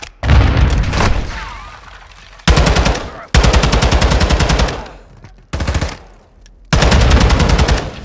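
Loud machine gun fire in the Call of Duty: Modern Warfare II campaign, several sustained rapid-fire bursts separated by brief pauses, close and dominant throughout.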